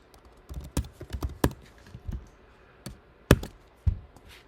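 Irregular clicks and taps of typing on a computer keyboard, a few clustered keystrokes with short pauses, close and fairly quiet in an otherwise still room.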